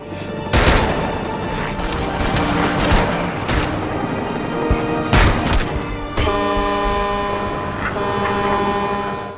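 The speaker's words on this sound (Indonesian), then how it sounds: "Min Jung kemudian masuk ke sebuah truk dan langsung membunyikan klakson untuk bisa memancing zombie." A truck horn blares in a zombie action scene from the film Peninsula, sustained tones emerging over a dense, loud mix of crashes and sharp bangs.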